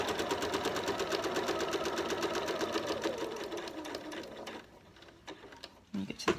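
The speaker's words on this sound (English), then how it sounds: "So you're going to sew on the line of the box that you have created." Sewing machine stitching along the drawn box outline of a zipped pocket on a bag lining, a steady rapid run of stitches that slows and stops, followed by a few brief clicks and handling noises.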